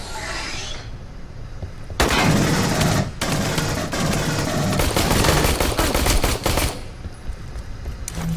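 Pistol gunfire in a video game battle on Sulaco: dense, loud volleys of rapid shots run for several seconds, cutting off abruptly, then resuming before a quieter tail.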